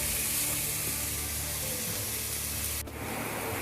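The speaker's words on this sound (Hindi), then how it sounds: "तेज़ फ्लेम पर कच्चापन निकलने तक फ्राई करना है" Vegetables for hot and sour soup frying on a high flame, a loud, continuous hiss and sizzle that briefly dips near the end before carrying on.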